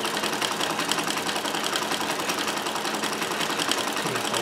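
A Necchi Supernova Ultra Freearm 3 sewing machine stitching steadily, a continuous close whirring motor with a fast even needle rhythm throughout.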